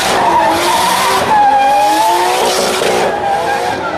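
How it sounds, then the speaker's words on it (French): A 300-horsepower Nissan Skyline drifting at an expo show, loud wavering tire squeal over engine noise, continuous and close throughout. "Marc Vissers en piste avec la Nissan Skyline 300 chevaux"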